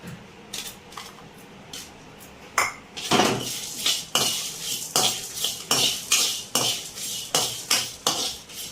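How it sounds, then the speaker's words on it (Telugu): Dry red chillies going into a frying pan of lightly fried spices for potato fry and tomato rasam, with a metal spoon scraping and clinking against the pan in a steady, close stirring rhythm. "ఇప్పుడు ఎండుమిర్చి వేసుకుందాం."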